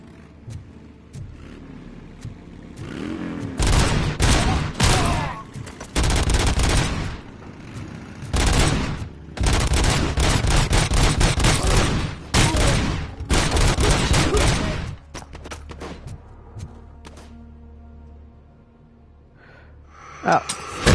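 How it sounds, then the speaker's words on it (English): Grenade launcher fire in RoboCop: Rogue City: heavy, booming bursts repeat over several seconds, loud and close, separated by brief gaps, then fade back to low background noise. "grenade launcher."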